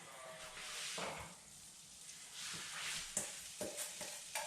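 Onion and garlic frying in a small pan over medium heat, a soft sizzle broken by scraping stirs and a few louder utensil knocks toward the end, fairly quiet.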